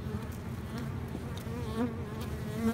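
Honey bees humming inside hives wintering indoors in Canada, a steady close buzz with faint wingbeat whines rising now and then, no voices.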